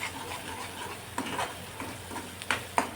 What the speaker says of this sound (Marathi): मसाला जेवढा तुम्ही चांगला परताल तेवढी या भाजीला चव जास्त येईल बघा. तर मसाला व्यवस्थितच परतून घ्या,